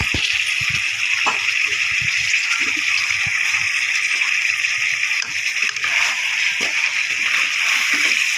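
Water splashing and sloshing steadily into ground spice paste for crab gravy, a continuous bright watery rush with small gurgles, close and fairly loud, with no talking.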